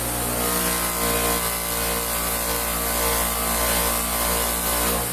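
A buffing wheel polishing an aluminum part with compound under light pressure, a steady, dense whirring hum that stays constant and close throughout, with no talking.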